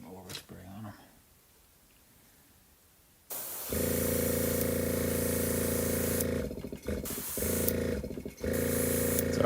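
Paint overspray hisses from a spray tool onto a model miniature in a short, near blast that drops out twice and resumes, after a quieter stretch with brief talk at the start.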